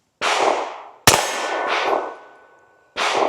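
A suppressed Ruger Mark IV 22/45 pistol firing Stinger .22 ammunition, each shot followed by a loud ringing clang from a steel target, three impacts spaced apart with no talk.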